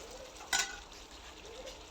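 A spoon stirs a pot of bhuna khichuri with chicken and potatoes, giving one brief scraping swish over a soft, steady sizzle. The sound is faint and close, with no talking.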